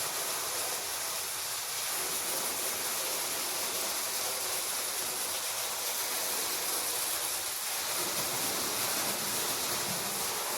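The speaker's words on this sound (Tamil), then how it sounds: "இந்த போரில் தண்ணி ஊற்றிட்டே இருக்குது." Steady, rushing water gushing from a borewell on a farm pours continuously for the whole stretch, a dense hiss without pause or talking.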